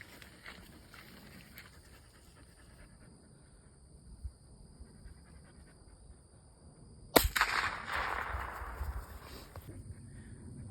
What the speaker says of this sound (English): now I'm gonna be shooting at medium distance